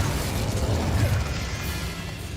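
The Incendio fire spell cast in Hogwarts Legacy gives a broad, roaring whoosh with crackling bursts, a dense fiery rush that swells and then thins out steadily.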